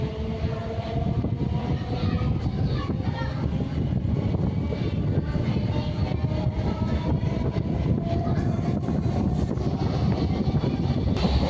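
A local EMU train runs at night from Arakkonam to Avadi, heard from inside as a steady low rumble and rattle of wheels on track, with a faint rising whine, continuous throughout.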